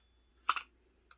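A Makita 3-3/8 inch cordless circular saw gives a brief, quiet electronic startup chirp, a couple of quick bright tones followed by a faint second blip in an otherwise silent room.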